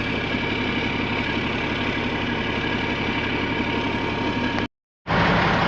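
Corn chopping machinery sits idling close by, its exhaust nearby, a loud, steady mechanical drone that cuts out briefly before resuming.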